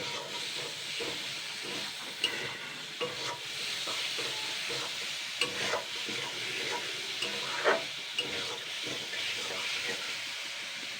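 Poha with potatoes, salt, sugar and turmeric being stirred in a hot pan, a steady close sizzle and hiss broken by repeated light scrapes and taps of the spoon throughout, with no talking.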